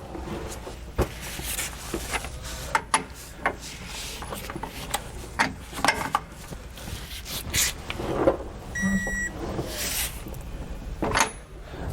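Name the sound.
torque wrench tightening U-bolt nuts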